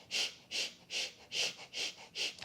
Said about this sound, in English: It's a panting breath through the nose while pumping our belly.